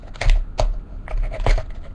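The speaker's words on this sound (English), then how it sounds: "So you're going to just cut off the top," Dull craft knife sawing the top off an aluminum soda can, giving several irregular crinkly metallic crunches and scrapes in short bursts, close and fairly loud, with no voice.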